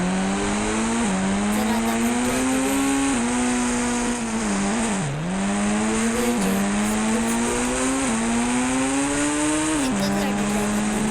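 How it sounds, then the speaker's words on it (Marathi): A video-game racing car roars with a loud, buzzing engine whine that climbs in pitch, drops at each gear change and climbs again, repeating steadily throughout. "racing car"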